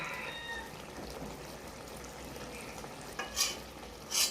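A spoon stirs a vegetable curry of paneer, Malabar spinach, potato and pumpkin in a pan, giving a soft, low wet churning with a few sharper scrapes near the end. It is quiet and close, and no one talks.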